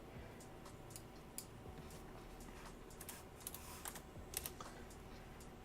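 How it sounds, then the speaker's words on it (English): Typing on a computer keyboard while searching for Tyrannid Gargoyle Wings parts for a Warhammer 40K build: a steady run of close, quick clicky keystrokes with irregular rhythm and a few sharper taps, with no talking. "See what I'm typing."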